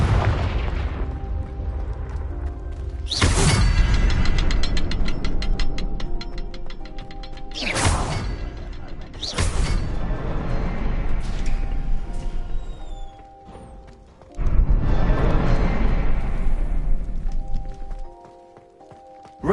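Confringo blasting spells going off in Hogwarts Legacy, several loud explosive bursts spaced a few seconds apart, each a sharp broadband crack that trails into a rumble, over background game music.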